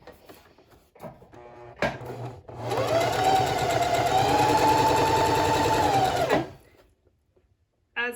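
A sewing machine runs a straight stitch along a fabric mask with elastic sandwiched in, starting after a few clicks and whirring steadily and close for about four seconds before stopping, with no talk.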